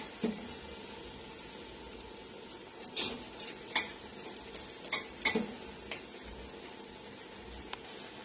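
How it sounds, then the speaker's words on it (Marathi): Washed rice being stirred into masala in a pot for Maharashtrian masale bhat. Quiet, sparse clinks and scrapes of a spoon against the pot come in a short cluster midway, over a low, steady background. "आता हे चांगलं हलवून घ्यायचं, म्हणजे पूर्ण तांदळाला हे मिश्रण लागलं पाहिजे."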